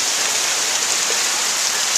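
Heavy rain mixed with hail pours down in a dense, steady hiss during a summer storm, falling onto a porch and yard, loud and continuous with no voices.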